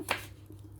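A single sharp knife chop on a cutting board, close and crisp, cutting chilies and kaffir lime leaves for larb, followed by faint soft clatter.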